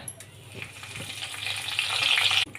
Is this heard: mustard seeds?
yes